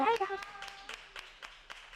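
Scattered clapping from a small live audience at a panel on mom entrepreneurs follows a voice at the start, a sparse run of separate, fairly faint claps in an uneven rhythm.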